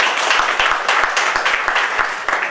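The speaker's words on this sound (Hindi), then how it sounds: "आप अपने लिए सबसे पहले तालियां बजाएं आपके आने के लिए" Audience at a life insurance agents' gathering applauding themselves, a dense, steady wash of many hands clapping close by that fills the whole moment with no one speaking over it.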